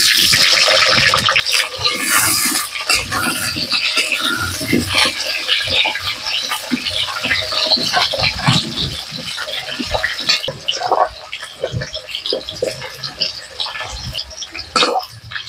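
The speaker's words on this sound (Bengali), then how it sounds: "এবার আমি আলু ভাজতে দেবো।" Potato pieces fry in hot oil for a cauliflower and meat roast, giving a continuous close sizzle with occasional scraping of a spatula while someone talks over it.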